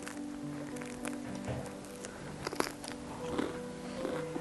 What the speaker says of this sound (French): Vous entendez, je pense, le croustillant.